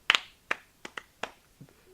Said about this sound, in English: Now we're just applauding pizza.